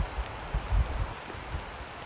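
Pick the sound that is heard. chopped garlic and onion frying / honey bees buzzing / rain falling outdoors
rain falling outdoors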